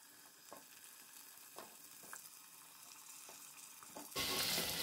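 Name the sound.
pumpkin pieces frying in hot oil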